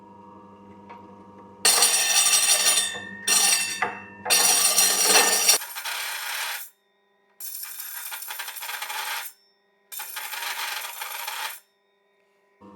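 A meat slicer blade spun against its built-in sharpening stone, bursts of loud bright metallic grinding lasting a few seconds each, separated by short quiet gaps, with the motor hum running underneath.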